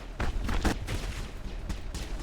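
Bursts of gunfire ring out in the video game Mass Effect, several sharp shots in quick irregular clusters over a steady background rumble, with no talking.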